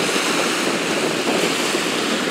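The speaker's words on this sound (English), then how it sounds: "Lovely cool breeze out here at the coast" Waves wash onto a beach at Southern Head while a cool coastal breeze buffets the microphone in a loud, steady roar.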